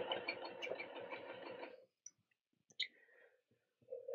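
A sewing machine stitches a binding strip alongside zipper teeth on a fabric pouch, running in a steady rapid whir for under two seconds, then stopping. Faint clicks follow before it briefly starts again.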